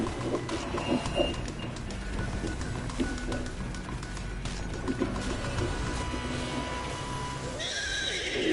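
A horse neighs and whinnies in the video game Destiny 2, loud and close, with clip-clop hooves and busy game ambience running throughout.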